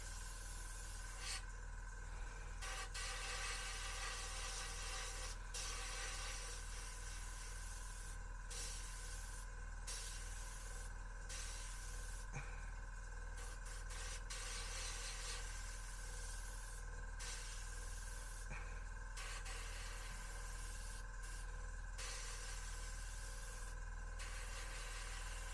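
A Gaahleri GHAC-98D or GHAD-68 airbrush spraying thin paint gives a steady, continuous hiss with a low hum beneath it, running the whole time at moderate level and broken by brief soft gaps, with no talking.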